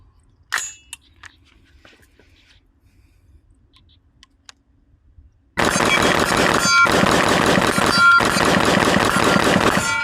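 Rapid semi-automatic rifle fire from an FN 15 Guardian AR-15, loud close shots in a dense fast string for about five seconds with brief breaks, after a quiet stretch of faint clicks and handling.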